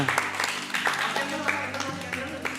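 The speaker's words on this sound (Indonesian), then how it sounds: "Siap, sekali lagi tepuk tangan semuanya." Guests at someone's birthday party clap together, a dense continuous patter of applause with sharp individual hand claps on top, with voices and a low background hum audible under the clapping.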